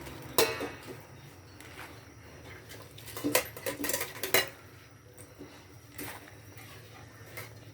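Fresh pechay leaves going into a home cooking pot, with scattered clanks of the pot and utensils and brief rustling clatter, loudest in a couple of bursts around the middle, against a low steady background.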